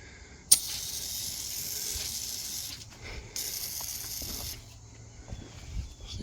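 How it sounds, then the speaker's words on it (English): Two bursts of hissing aerosol yellow jacket insecticide spray, the first about two seconds long and the second shorter, close by with quiet outdoor background between. "I got this yellow jacket spray"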